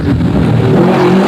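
A Mini rally car on a special stage of the 1982 Circuit of Munster rally, its engine revving hard and loud in a continuous, close roar with no talk over it.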